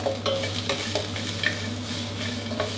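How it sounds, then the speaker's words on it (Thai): Oil sizzles steadily in a very hot wok as garlic and crispy pork are stir-fried, a utensil scraping and stirring in quick, irregular strokes, with a low hum running underneath. "อันนี้ก็ผัดคั่วให้กระเทียมออกกลิ่นหอมก่อนนะครับ"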